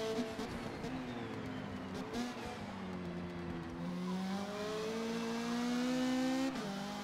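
A race car in the Forza Motorsport game drifts through a corner, its engine note rising and falling with gear changes while tires squeal and skid continuously, loud and close, with no talking.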